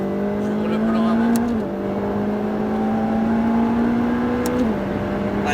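Ferrari F8 engine droning steadily at high revs on a race circuit, dipping briefly twice as gears change, loud and close with faint talk underneath.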